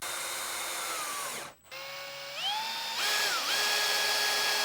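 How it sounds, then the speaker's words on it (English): Cordless power drill driving screws for roller shade window brackets, a close, loud motor whine that stops for a moment, then restarts and climbs in pitch as the drill speeds up. "got the brackets drilled in"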